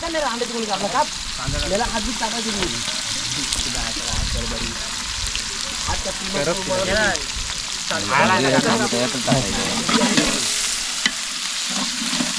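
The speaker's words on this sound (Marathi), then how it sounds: "कडक मस्त तेल तापले ही पानं काही टाकायचे आहे" Leaves drop into hot oil for chicken biryani at a village cooking party, giving a steady crackling sizzle. Someone talks over it throughout and pans clatter now and then.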